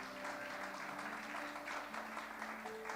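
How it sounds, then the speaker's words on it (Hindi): A church congregation claps for the Lord during a Hindi sermon, steady dense clapping throughout, with sustained musical tones from instruments held underneath. "जोर से प्रभु के लिए ताली"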